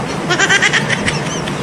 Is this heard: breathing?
no